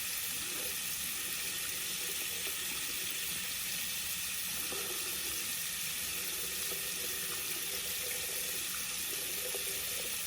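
Tap water runs steadily from a faucet into a sink while someone waits for hot water from a faulty water heater, a continuous close hiss and splash with faint gurgles throughout.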